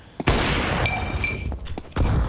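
Gunfire in a professional Counter-Strike match, sharp close bursts of shots in quick succession with short pauses between volleys.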